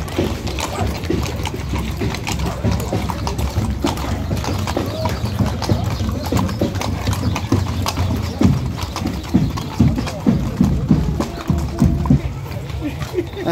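Many horses' hooves clip-clop in an irregular, overlapping patter during a village horse parade held for a patron saint festival. The hoofbeats are close and steady, with crowd murmur and voices mixed in.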